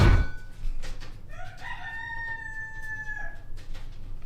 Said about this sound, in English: Would that chicken just stop squawking?